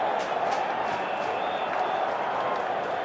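Cricket crowd at the WACA in Perth during an Australia vs Zimbabwe one-day match, a steady roaring wash of cheering and clapping from the stands that holds at an even loudness throughout.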